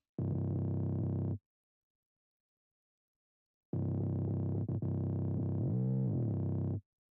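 A distorted synth bass from a 3xOsc plugin in a beat remake plays two sustained phrases separated by a gap of silence, the second ending in a pitch slide.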